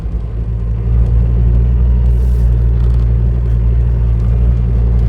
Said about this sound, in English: Well, I didn't expect to be driving this round a field today.